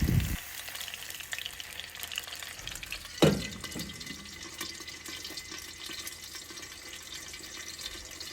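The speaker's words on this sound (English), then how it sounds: "while the chicken is frying" Chicken crackles and sizzles steadily in hot oil over low heat, with a brief clank of utensils near the start and middle.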